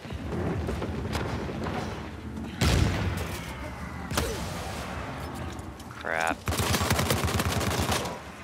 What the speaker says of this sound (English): got hit by a grenade, I took a bullet